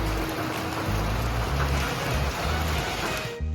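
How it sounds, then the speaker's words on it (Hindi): Heavy rain pours steadily in the Himalayan hills around Bir Billing, a loud dense hiss with splashing that continues unbroken before fading slightly at the end. "पिछले 2 घंटे से फिर से बारिश हो रही है, रुकने का नाम ही नहीं ले रही"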